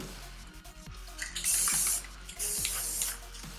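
Spray paint can hissing onto the sides of a spray paint art piece of a cityscape, two bright sustained bursts of about half a second each, close by, with small taps and clicks between them.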